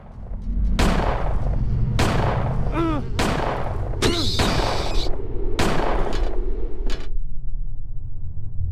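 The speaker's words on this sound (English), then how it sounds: "I hear some footsteps and I hear some gunshots." Loud, booming video game gunshots from Silent Hill 4: The Room fire in an irregular series over a constant rumbling background, with a few ringing metallic echoes between blasts.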